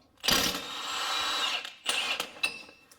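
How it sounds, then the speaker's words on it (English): An axle nut socket remover blasts the 32 mm axle nut off a Nissan Armada 4x4. One long, loud, whirring hammering burst is followed by two short rattling bursts, all close and with no talking. "I'm going to take my axle nut socket remover and just go ahead and blast it off."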